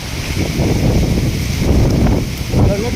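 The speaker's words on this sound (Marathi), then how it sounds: "बघा सुसाट्याचा हा वारा सुटलेला आहे." Fierce gusty wind blows along the coast near Sindhudurg fort amid coconut palms and water, a continuous loud roar swelling and easing in gusts.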